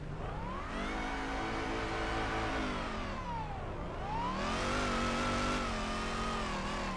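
A drift car engine in Torque Drift revs hard and continuously, climbing in pitch, dipping briefly as it shifts, then rising again, loud and alone.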